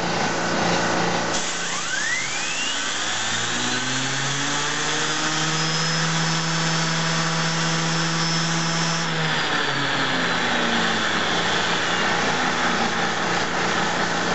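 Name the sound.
small turbine engine revved up to high RPM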